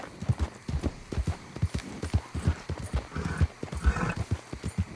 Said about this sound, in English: that's like a horse or some sort of animal